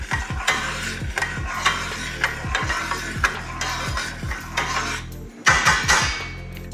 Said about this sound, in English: I'm gonna give it a stir here.